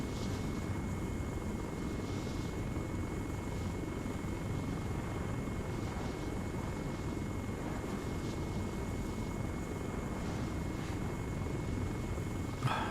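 Helicopter flying in Arma 3 over Altis, a steady loud rotor and engine drone with continuous broadband roar and faint rhythmic blade pulsing, no voices.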